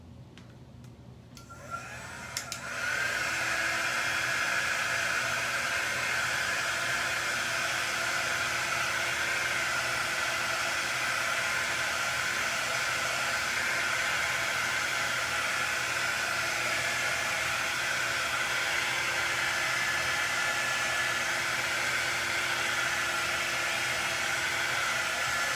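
A blow dryer switches on after a brief quiet start and runs loud and steady at close range, drying chalk paste on a craft cut-out, an unbroken whooshing hum for over twenty seconds.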